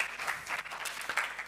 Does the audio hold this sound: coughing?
no